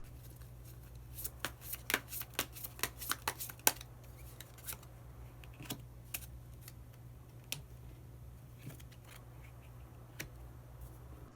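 Tarot cards are shuffled by hand in a run of crisp, rapid riffling flicks, dense at first and then thinning to scattered single snaps against a quiet, low-humming room.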